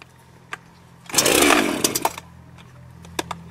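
A nearly new Powerhorse chainsaw with a freshly sharpened chain fires up in a single loud, buzzing burst of about a second, then cuts back to faint, sporadic clicks and sputters.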